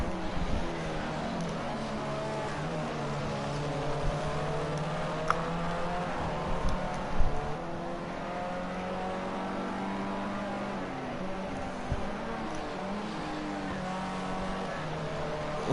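Formula C race cars in the Project Cars 2 racing game, several engines droning and shifting pitch together in a steady, continuous whine with occasional brief bumps, moderately loud throughout.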